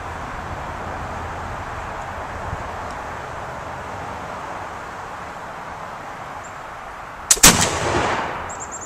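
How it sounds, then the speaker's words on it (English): A .50 caliber flintlock deer rifle loaded with a patched round ball and homemade black powder fires one loud, sharp outdoor shot near the end, followed by a fading rumble after a long steady background. "this is a 50 caliber flintlock, deer hunter with some homemade black powder"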